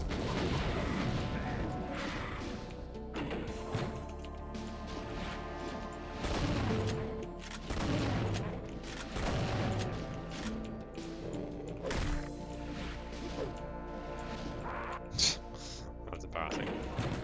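Rocket launcher blasts and explosions from the video game Doom, played on the Heartland map, a dense run of loud booms and crashes with a person speaking over the din.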